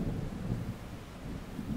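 Low, continuous thunder rolling along a shoreline on the Isle of Skye, a steady deep rumble that swells and eases without a break, moderately loud with faint rain-like hiss above it and no voices.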